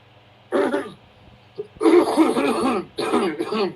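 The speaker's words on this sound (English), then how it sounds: "Smoker's cough" A person coughs a smoker's cough and clears their throat in a few harsh, close bursts with short quiet gaps between them.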